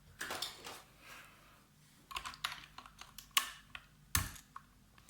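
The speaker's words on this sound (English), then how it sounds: "this is what I use mainly if I want to type like really fast when I'm writing essays" Fingers type on a mechanical keyboard with Kailh Box Red switches, producing quiet, irregular bursts of light key clacks with brief pauses between them, close up and with no talking.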